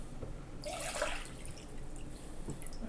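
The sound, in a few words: water poured into a bowl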